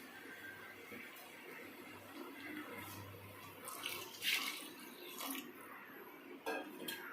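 Reserved cooking water from boiling tomatoes for tomato thokku is poured into a pan, a faint wet splashing with light clinks of utensils and pot in a quiet kitchen.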